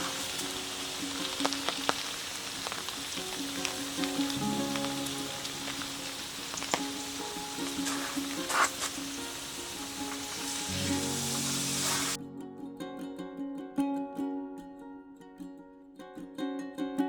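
Steak sizzles in a Dutch oven over a Camp Chef propane fire pit at a campsite, a steady close frying crackle with clinks that cuts off sharply near the end, leaving a quieter tail.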